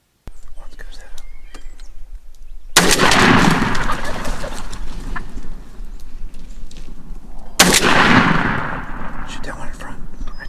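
Two loud shotgun blasts ring out outdoors during a turkey hunt, each a sharp broadband crack with a lingering tail, spaced about five seconds apart over quiet background whispering.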